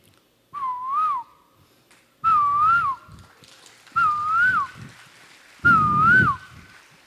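Whistled imitation of a koel's call: four clear, rising-and-falling whistled phrases, each about half a second long, evenly spaced with pauses between, loud and close.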